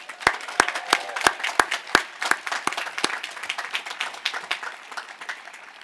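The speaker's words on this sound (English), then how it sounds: "I'd like a big round of applause for your family and friends who made it possible for you to be here" Applause from the audience at the Washington and Lee University School of Law 2024 commencement, a spread of separate sharp claps at the start that gradually thins and softens into a quieter, sparser patter.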